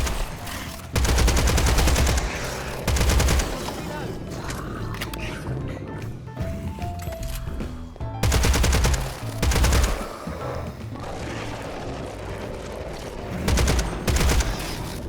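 Gunfire in the arcade first-person shooter Hellbreach: Vegas, loud bursts of rapid shots repeating in several volleys between quieter stretches of game sound.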